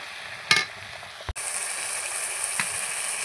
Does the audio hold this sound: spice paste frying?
yes